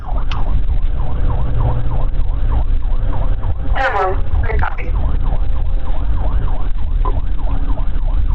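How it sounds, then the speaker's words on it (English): A police car siren wails, cycling rapidly and continuously under loud engine and road noise, with a brief voice cutting in midway. "killing lights and sirens"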